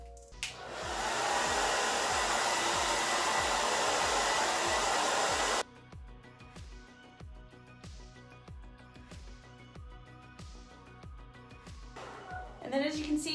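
A blow dryer fitted with a diffuser dries curly hair, roaring loud and close for about five seconds before dropping to a quieter low setting. Someone talks over it throughout.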